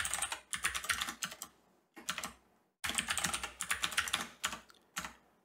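Rapid typing on a computer keyboard, tapped out in several bursts separated by brief pauses, close and clear with no talking.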